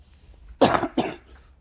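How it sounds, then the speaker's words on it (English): Two quick, harsh coughs in close succession, near and fairly loud, after a moment of quiet. "that's not a dry cough"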